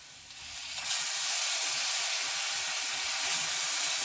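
Safflower leaves hit a hot tempering of oil and asafoetida, bursting into a loud, steady sizzling hiss after a quieter start, then holding on without talk.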